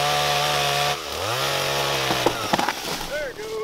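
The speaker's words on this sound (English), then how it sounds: "I'm gonna try and make a cut in the middle so that way this thing breaks down" A chainsaw drones loudly up close, its engine pitch dropping and rising as it bites into a tree, with cracking and snapping toward the end.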